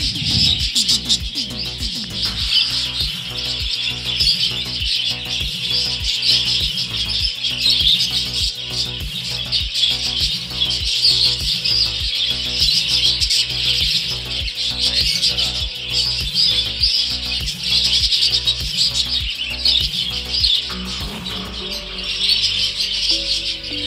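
Budgerigars, including a male, chirp and twitter continuously in a cage, a dense bright chatter over a steady rhythmic background hum, fairly loud throughout.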